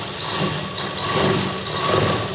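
A sewing machine stitches stretched elastic onto lined trousers, giving a steady, continuous motor hum with a mechanical whir that holds close and even throughout, with no talking.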